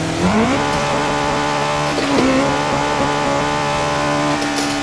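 A Honda City GM6 with a swapped K24 turbo engine in Assetto Corsa revs hard to the rev limiter at 0.5 bar boost and holds a loud, steady high-rpm drone, with a brief dip and surge in pitch partway through.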